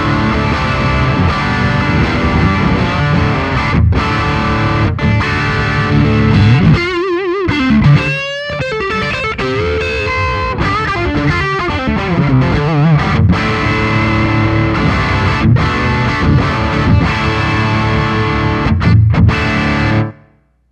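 Electric guitar through a Boss Waza Craft Tube Amp Expand, picked up by a ribbon mic, plays a continuous thick distorted part for about twenty seconds, loud and sustained with a few brief breaks and pick scrapes, no voices.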